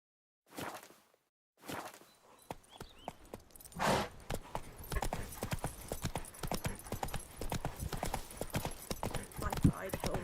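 Roach, Geralt's horse in The Witcher 3, trots with steady hoof clip-clops that start after a couple of brief sounds and continue throughout, loud and close, with a voice speaking over parts of it.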